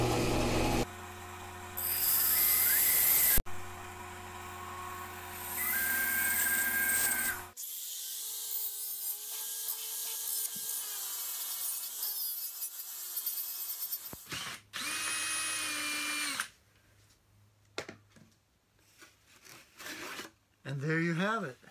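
Power-tool trimming of wood during the build of a Bubinga acoustic guitar: a loud, whining cut in several bursts separated by brief pauses, with quieter scraping and handling noises near the end.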